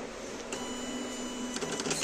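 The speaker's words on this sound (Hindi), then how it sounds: "प्रिंटर को दोबारा से ऑन करते हैं।" An Epson LX-310 dot matrix printer powering back on, a low steady mechanical hum with a brief click partway through and a burst of rattling head movement near the end, close and fairly quiet.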